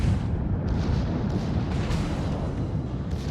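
The battleship Musashi's heavy guns fire in World of Warships: a dense, loud, continuous rumbling barrage of booms with no pauses.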